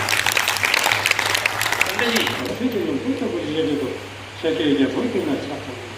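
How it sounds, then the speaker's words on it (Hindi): Audience applause for a child at a Buddhist cultural program, dense clapping at first that fades out after about two seconds, followed by someone speaking over a steady low hum. "एक बार बच्ची के लिए जोरदार ताली दो।"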